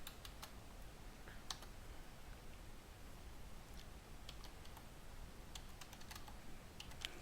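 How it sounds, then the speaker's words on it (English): Login credentials being typed on a computer keyboard, a run of quick, light key clicks in uneven bursts over a quiet background hiss, close and fairly soft. "I'm going to type my credential here"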